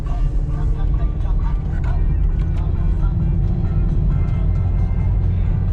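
A 2008 Toyota Vios with automatic transmission runs steadily, its engine holding a dense low rumble and rising slightly as it is revved, close by and continuous under faint background noise.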